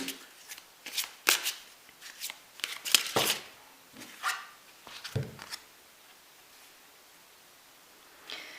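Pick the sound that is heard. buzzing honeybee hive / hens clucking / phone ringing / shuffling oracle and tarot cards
shuffling oracle and tarot cards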